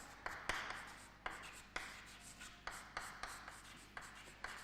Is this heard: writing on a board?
yes